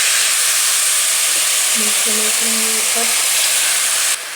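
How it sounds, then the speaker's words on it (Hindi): Milk poured into a hot pan over full flame with petha (ash gourd) for sugar-free mango halwa, giving a loud, steady steam hiss and sizzle throughout, with a brief voice and faint tonal notes midway. "दूध शामिल करेंगे"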